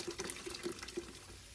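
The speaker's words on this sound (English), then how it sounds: "when they had a shower, if we run the shower," A household shower runs with low water pressure, a weak, thin spray with faint splashing and small irregular spurts, heard close by.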